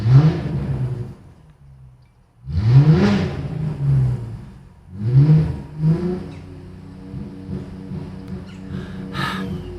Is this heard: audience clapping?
no